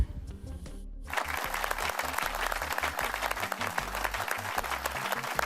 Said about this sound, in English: I would like to give myself a round of applause for not giving up